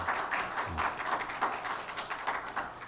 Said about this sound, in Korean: 우리 다시 한번 격려의 박수 하겠습니다.